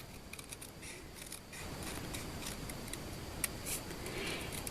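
Scissors snip paper along a printed line while making a handmade card, faint close crisp cuts with a few small ticks over a quiet background.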